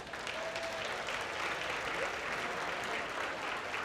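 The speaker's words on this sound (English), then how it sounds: "Give him a big round of applause." Applause from a fundraising auction audience, a dense steady wash of clapping lasting throughout at moderate volume.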